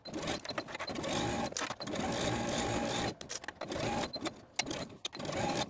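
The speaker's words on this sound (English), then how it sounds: "And then sew your neckbands together through all thicknesses with a 3/8 inch seam allowance" A sewing machine stitches fabric neckbands together through all layers with a 3/8 inch seam, running in steady close whirring bursts with brief stops between runs, no speech.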